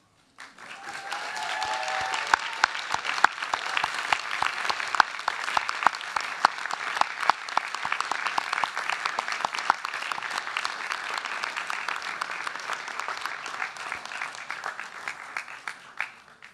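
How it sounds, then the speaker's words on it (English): Graduates at a university graduation ceremony applaud their families and friends, a large hall full of sustained, even clapping with sharp individual claps standing out, rising quickly and holding steady before tapering off at the end. "give them an equally rousing round of applause because they too have earned it"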